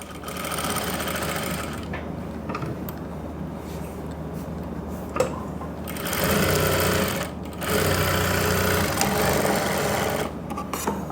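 A sewing machine stitches trousers with a belted front and elastic back, its motor running in steady bursts of rapid stitching with brief pauses between runs, close and alone.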